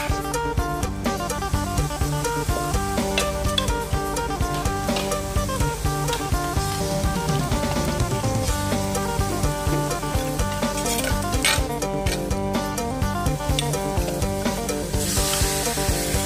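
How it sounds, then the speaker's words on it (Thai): Pork stir-fries with chili and fish sauce in a hot pan, giving a loud continuous sizzle with rhythmic scraping and stirring strokes, accompanied by background music. "เราจะลวนหมูกับพริกน้ำปลาก่อนนะครับ"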